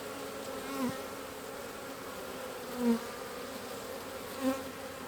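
Honey bees buzz around an open Apimaye hive during a colony split, a steady low hum with a few brief louder passes as single bees fly close to the microphone.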